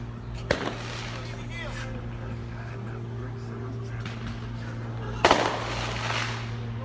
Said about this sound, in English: they got fireworks.